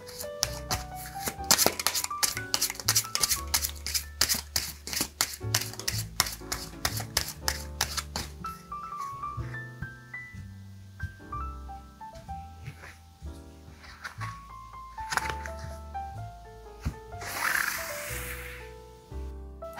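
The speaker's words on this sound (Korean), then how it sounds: "그 사람과 관련한 카드 한 장 뽑아보도록 하겠습니다." Tarot cards shuffled and drawn by hand: a rapid run of crisp riffling flicks at first, then sparser soft slides and taps, close and quiet, with gentle music underneath.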